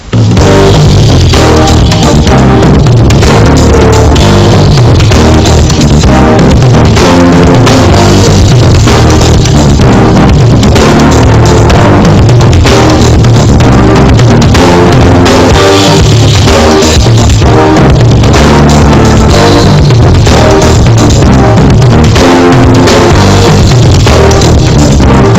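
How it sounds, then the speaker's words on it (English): A drum pattern accented on the snare and spread across toms, rim and cymbals, played loud and dense throughout, with a continuous busy groove filling the whole passage and no talking. "bring it over to the drums and orchestrate that pattern on the toms, the rim, cymbals, whatever."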